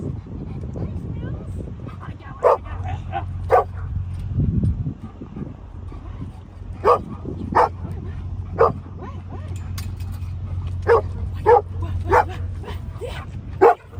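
Pet dogs named Ellie and Joey give repeated short yips and excited barks close by, with whimpering between them. A low rumble sits under the barks, and people talk over the dogs.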